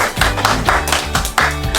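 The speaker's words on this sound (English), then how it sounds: "give yourself a round of applause" A group of children at a yeshiva clap for themselves in a loud, rapid burst of overlapping applause that swells in uneven waves and carries on throughout.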